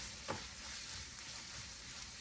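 Arancini filling with peas cooks in a pan with a steady, even sizzle, plus a brief stir or scrape early on and no voices.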